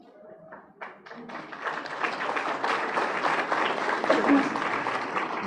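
Applause builds from scattered claps into a full, steady ovation at a South African presidential media briefing, with some voices and cheers mixed into the dense clapping.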